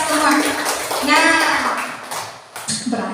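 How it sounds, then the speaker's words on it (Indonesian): Children in a classroom clap their hands together in a dense, steady burst of applause, with voices mixed in around the clapping. "Tepuk tangan dulu dong untuk kita semua"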